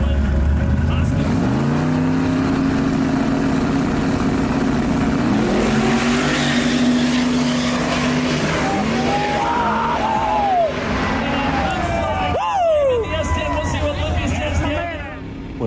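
Race car doing a burnout at a no prep drag race, a loud sustained engine roar with revving and rising pitch sweeps, tire noise toward the end, over a crowd's babble and yelling.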